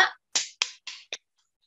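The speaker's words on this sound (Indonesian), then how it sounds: "Oke, tepuk tangan dulu untuk kelompok 2." A handful of sharp, separate hand claps, about four or five spaced unevenly over a second, for group 2 in a school science-project class, then silence; close and fairly quiet with no talk.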